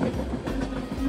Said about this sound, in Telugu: ఈ ట్రైన్కి అయితే సిగ్నల్ వచ్చింది, ఇదైతే స్టార్ట్ అయింది